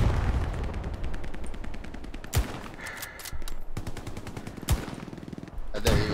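Gunfire in the video game Hell Let Loose: dense bursts of rapid shots with a few sharp, louder cracks standing out, alone without talk.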